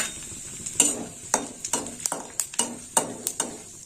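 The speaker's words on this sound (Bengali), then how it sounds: "দুটো শুকনো লঙ্কা আর দিয়ে দেবো হাফ চামচ জিরে ফোড়নটা একটু ভাজা হোক" Dried red chillies, cumin seeds and bay leaves tempering in hot oil in a pan give a steady close sizzle, broken by a string of sharp clinks as a spoon stirs against the metal.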